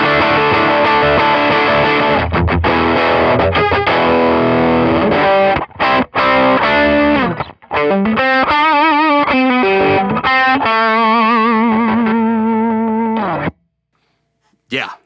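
An electric guitar played through a Tube Screamer overdrive pedal into an amp set low, giving a loud, sustained lead tone with bent and vibrato notes, choppy stops and a final short silence.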